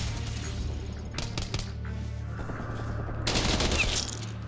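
A primary weapon fires in the Black Ops video game: sharp bursts of gunfire cut through mechanical game sounds, with a louder, denser volley toward the end.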